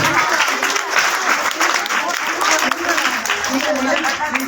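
Applause from a crowd at an annual school results and prize-giving ceremony, a dense continuous burst of many hands clapping, loud and close, with voices mixed in.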